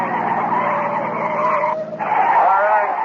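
A police car engine runs through a radio drama chase, a strained continuous drone with a squealing skid toward the end, voices speaking over it.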